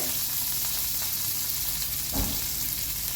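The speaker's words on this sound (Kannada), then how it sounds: "ಈಗ ಒಂದೊಂದೇ ಜೀರ ಸಿಡಿಲಿಕ್ಕೆ ಸ್ಟಾರ್ಟ್ ಆಯಿತು" Cumin seeds and chopped curry leaves splutter in hot tempering oil, giving a steady close sizzle with scattered crackles and one sharper pop near the end, with no voices.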